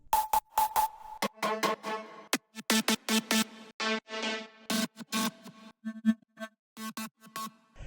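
Several bright synthesizer lead tones, layered in FL Studio, play in short bursts and sustained notes, with some held chords, alone and fairly loud, with gaps between phrases.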